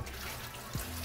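Water runs steadily from a garden faucet tap, a continuous broadband rush close to the mic with a brief splash change near the end, no voices.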